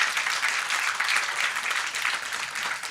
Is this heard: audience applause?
yes